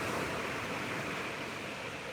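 Ocean waves roll and break on a beach at sunrise, a steady loud broadband wash of surf with no clear gaps, heard alone without voices.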